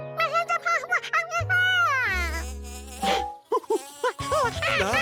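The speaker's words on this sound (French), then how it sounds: "Encore des abeilles?" Cartoon bees buzz in whiny, wavering tones that swoop up and down, layered with shifting musical notes and sustained low chords, loud and close in a lively animated scene.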